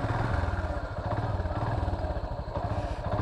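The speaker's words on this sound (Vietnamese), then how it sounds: "cho máy nổ một lúc" A manual-clutch motorcycle idles steadily close up, its engine giving a continuous rapid chugging pulse with a slight clattery rattle throughout.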